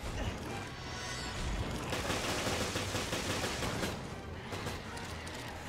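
Rapid gunfire in the video game Resident Evil Revelations crackles in dense bursts, sustained and fairly faint, with short gaps between volleys.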